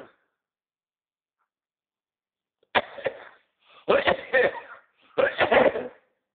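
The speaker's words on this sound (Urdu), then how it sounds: "اس طرح سے کھانسی ایک ساتھ آتی رہتی ہے" Three separate bouts of harsh, hacking coughs come close up after a silent stretch, each a cluster of rapid bursts with short pauses between.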